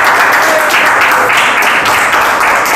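Applause ringing out at a civil wedding ceremony in Santa Rosa, right after a couple exchanges their vows: a dense, steady wash of many hands clapping that stays close and loud throughout, with no talk over it.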